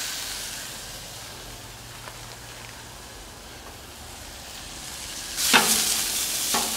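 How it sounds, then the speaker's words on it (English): Chicken sizzling in a little oil on a hot Camp Chef flat-top grill, a steady crackling hiss that jumps louder near the end as more food hits the surface. "You can hear that sizzling."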